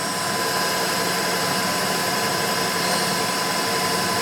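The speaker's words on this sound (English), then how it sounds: "And I'll just drill through that thing." A steady, continuous mechanical whir of a small micro drill boring through metal without pause, loud and close, with no voices.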